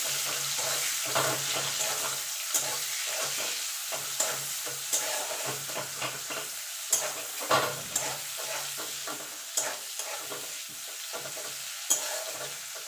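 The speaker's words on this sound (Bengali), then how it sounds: "এখানে দিয়ে দেবো পেঁয়াজ কুচি এবার পেঁয়াজটাকে একটু লাল লাল করে ভেজে নেবো" Chopped onions fry in oil in a pan while being stirred, a steady sizzle broken by repeated scraping strokes of the spatula, close and clear with no talking.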